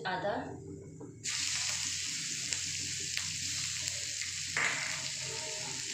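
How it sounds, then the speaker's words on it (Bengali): Ginger frying in a pan for masala paneer, stirred with a utensil: a steady, close sizzle that jumps louder after the first second, with brief scraping touches and no talk. "আদাটা দিয়েছি। একটু নাড়াচাড়া করে নিই"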